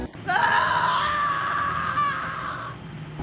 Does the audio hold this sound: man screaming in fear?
yes